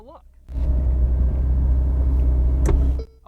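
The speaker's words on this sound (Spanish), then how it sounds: "hay dos paneles del techo que bajan para convertir este coche en un descapotable" Ferrari convertible roof panels retracting into the trunk, a steady electric motor whir and mechanical rumble starting abruptly, running about two and a half seconds with a brief clunk near the end before stopping.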